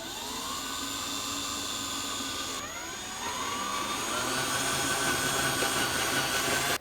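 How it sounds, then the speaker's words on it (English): A power drill bores a 3/8 hole through a metal bracket, its high whine running steadily, dipping briefly partway, then rising and holding before cutting off abruptly. "you need to drill a 3/8 hole in the hole of this number 4 bracket"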